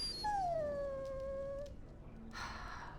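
A dog in the Dragon Age: Origins video game gives one long, falling, high whimpering whine, close and fairly quiet, followed by a soft rustle.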